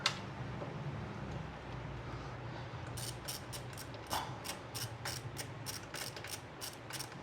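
A hand tool loosens bolts on a CFMOTO 450MT motorcycle, giving a run of sharp, evenly spaced ratcheting clicks close by after a quieter stretch of background noise.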